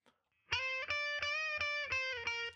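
Heavily distorted electric guitar on a rhythm preset plays a chugging riff of repeated sustained chords with short rhythmic breaks, loud and bright, starting after a brief silence.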